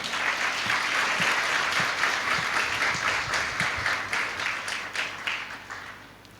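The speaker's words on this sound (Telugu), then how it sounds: "క్లాప్స్ కొట్టాల" A church audience claps together in a sustained burst of applause, loud and dense at first and slowly thinning toward the end, with no talking over it.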